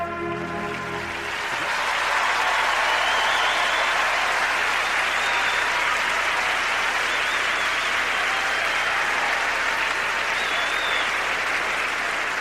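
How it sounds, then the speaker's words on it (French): A figure skating championship crowd breaks into loud, sustained applause and cheering that swells within seconds and holds steady as a dense wash of clapping. "Ce sont des hurrahs dans la foule."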